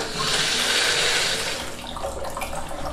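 Water splashes into a cut-open bucket or jug, a loud rushing pour at first that eases into a softer trickle and swirl, with no talking.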